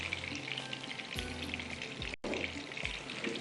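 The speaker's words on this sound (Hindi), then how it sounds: "यहाँ पर अब इसको थोड़ा सा फ्राई होने देते हैं" Minced meat koftas fry in a pan of oil, a close, continuous crackling sizzle with small pops and a brief stir-like break partway through.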